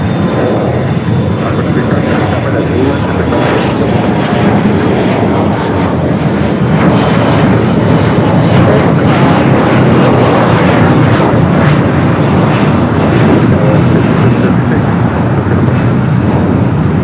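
A United Express SkyWest airliner departs from Los Angeles airport with a loud, sustained jet engine roar. The broad rumble stays steady and close for the whole stretch, and no voices come through over it.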